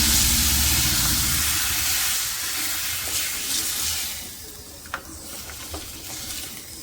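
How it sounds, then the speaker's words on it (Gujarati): Hot oil tempering with asafoetida and red chilli powder, poured over thick dal, gives a loud, steamy sizzle that steadily softens and fades into quieter crackles. "થઈ ગયો વઘાર દાળનો"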